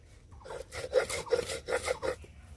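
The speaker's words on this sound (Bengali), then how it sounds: "আমি মিহি করে বেটে নিচ্ছি।" Raw potato being ground finely in a mixer grinder for homemade cornflour, a close, gritty grinding rasp that pulses in uneven surges for a few seconds.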